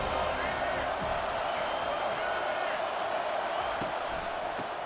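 A stadium crowd in College Football 25 roars steadily with continuous cheering and whooping that swells behind a defense on a big third down, while a commentator talks over it.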